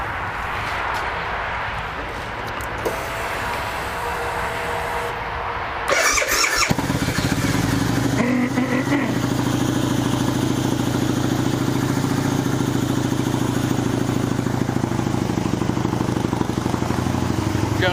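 An Excelsior Henderson Super X motorcycle squeals and clatters through a few seconds of cranking, then fires and settles into a loud, steady warm-up idle close by.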